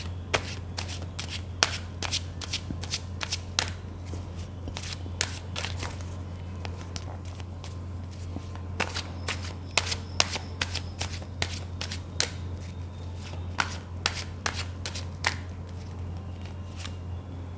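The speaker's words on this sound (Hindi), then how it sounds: "जब तक मैं कार्ड शफल कर रही हूँ" Tarot cards shuffled by hand, giving rapid, crisp riffling snaps in repeated bursts over a steady low hum, close and fairly quiet, with no one talking.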